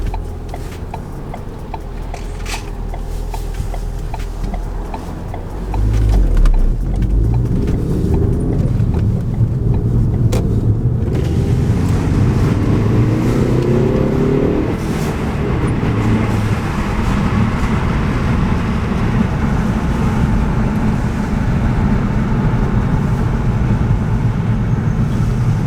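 A classic Mercedes with a turbocharged engine runs with a deep rumble that rises around six seconds, holds a steady drone and briefly eases near fifteen seconds, with no voices over it.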